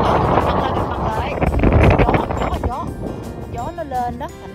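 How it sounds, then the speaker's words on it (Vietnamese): Strong wind gusts across the open Pinnacles Desert near Perth, Western Australia, roaring and buffeting a nearby microphone while someone talks over it. "gió nó lên đó"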